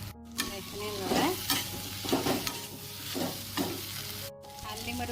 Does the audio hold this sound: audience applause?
no